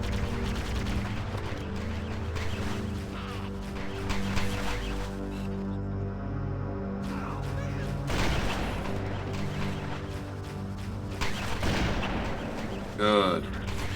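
Gunfire in the Cursed Halo game, a run of shots over steady background sound and talk, with a sharp crackling burst near the end.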